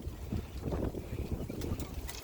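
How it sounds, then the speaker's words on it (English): Gusty wind outdoors in a garden buffets the microphone with a loud, rumbling roar that rises and falls throughout, close and constant. "sorry it's so windy out"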